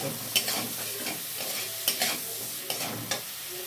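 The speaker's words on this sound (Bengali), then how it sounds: "শুধু রসুনটা যদি এইভাবে একটু ভেজে নেওয়া যায়।" Garlic paste fries in a pan for a Bengali jackfruit and prawn dish, with a steady close sizzle and a few sharp scraping stirs of a spoon against the pan, and no voices.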